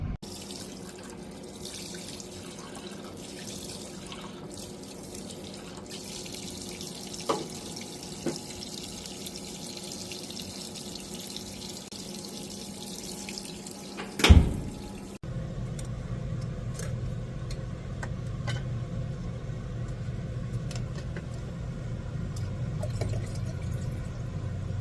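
Water runs steadily from a tap inside an RV, a constant hiss with a few clinks and a brief louder splash near the middle, after which the flow turns fuller and lower as it continues to fill.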